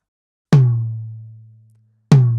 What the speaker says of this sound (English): So I have this tom here. Sounds like this.